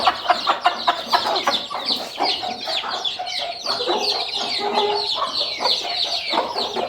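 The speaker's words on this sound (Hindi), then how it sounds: "यहाँ पे दोनों मुर्गियों का ना फाइट स्टार्ट हो चुका है।" Hens cluck and squawk agitatedly in a noisy, continuous scuffle, close by, with dense overlapping calls and flutters.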